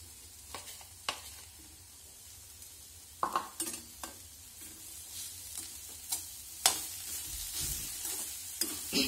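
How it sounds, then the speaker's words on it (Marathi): Modak filling of grated coconut and grated jaggery stirred in a pan, scraping strokes and soft sizzling at irregular intervals, close and moderately quiet, with no voices. "आणि हे सारण चांगलं एकजीव होईपर्यंत ढवळून घ्यायचं व्यवस्थित"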